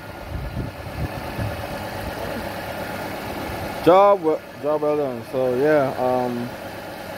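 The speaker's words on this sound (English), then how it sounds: "I'm gonna leave it idling for" A Toyota Yaris engine idles steadily after an oil change, a low continuous hum that runs alone at first and then sits under someone talking.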